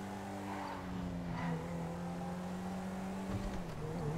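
Steady in-game car engine drone from GTA 5, a loud continuous hum with shifting pitch and brief tire-squeal accents, no talking.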